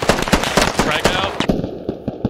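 Sharp repeated blasts and cracks of combat in the shooter game Squad, a frag grenade bursting among rapid explosive pops, loud and close, with a sudden shift into a ringing, muffled tone near the end.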